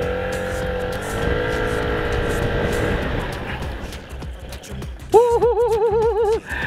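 An FKM MTX 150 Hybrid motorcycle engine hums and rises as the bike accelerates to around 30 on a test ride, with wind rush, then a warbling tone briefly sounds near the end.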